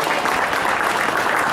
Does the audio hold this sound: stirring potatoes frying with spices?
no